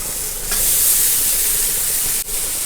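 Food sautéing in a hot pan for green apple rice, a steady loud hiss of sizzling oil that holds through with a brief dip near the end, no talk.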